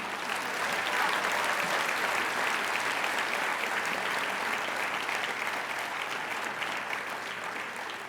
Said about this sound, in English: Please have a round of applause for the stage.